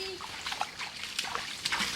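Creek water trickles and splashes softly in the open air, with small irregular splatters and sloshes close by and a low background murmur.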